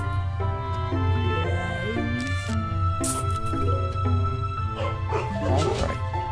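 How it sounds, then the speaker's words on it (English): Dogs bark in bursts over a steady loud game soundtrack from Plants vs Zombies, with music and sound effects dominating and the barking fairly distant. "Sorry about the dogs. Not much I can do about their barking."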